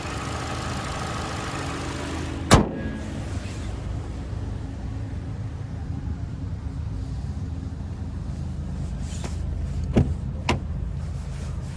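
A 2021 Toyota Avalon Limited AWD's 2.5-liter naturally aspirated four-cylinder idles with a steady, low hum, broken by a few sharp clicks and thumps nearby.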